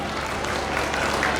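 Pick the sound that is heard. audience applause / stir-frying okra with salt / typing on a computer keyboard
audience applause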